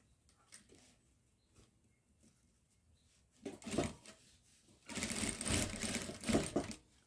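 Sewing machine backstitching on a rug made from fabric scraps, quiet at first, then a short whirring run followed by a louder, longer burst of rapid stitching close by.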